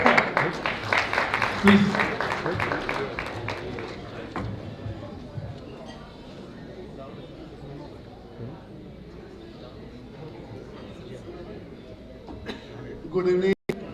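Audience applause at a book launch, a burst of many hands clapping that fades out over a few seconds, then a quiet room with a voice speaking briefly.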